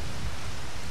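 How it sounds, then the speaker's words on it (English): Steady rain in Star Wars Battlefront 2 on the rainy Kothlis map, a dense continuous hiss with a low rumbling undertone, constant and unbroken. "it looks like it's a rainy day today in Kothlis"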